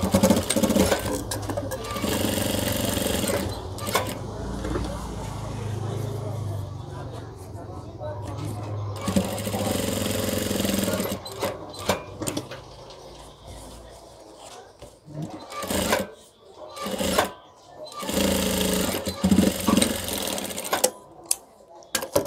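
A sewing machine stitching a box pocket on a garment runs in long steady bursts of rapid mechanical whirring, pausing and restarting several times, close and fairly loud, while a person talks over parts of it.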